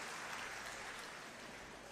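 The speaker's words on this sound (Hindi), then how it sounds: "एक बार जोरदार तालियां इनके साहस और पराक्रम के लिए बजा दीजिए" Sustained, dense applause from a large crowd at a Haryana election rally, steady and loud for the whole stretch with no voices breaking through.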